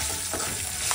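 Curry leaves and green chillies crackle and sizzle in hot oil for raw mango pulihora, a loud, dense, close sizzle with a couple of brief spatters and no talking.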